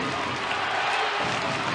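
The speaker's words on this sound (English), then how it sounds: "I think you can hear some big crowd in here tonight" A big crowd roars at a Belfast Giants ice hockey game against the Cardiff Devils, a dense, continuous wash of cheering and applause filling the arena for a brief moment.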